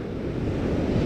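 Ocean swell waves breaking on a beach, a steady loud wash of surf with wind buffeting close to the microphone, no voices.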